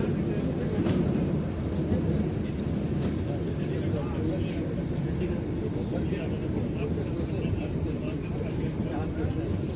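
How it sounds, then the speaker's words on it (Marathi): A small mountain toy train in Shimla rumbles along steadily, a continuous low clattering roar with no breaks, close and fairly loud throughout. "अशी छोटी ट्रेन आहे आणि त्याच्यामध्ये बसून हा सर्व प्रवास केला जातोय"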